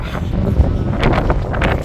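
Wind buffets an outdoor microphone on a blustery day at a wartime re-enactment weekend at Blyth Battery in Northumberland, a loud, steady rumbling roar with gusty swells and no pause.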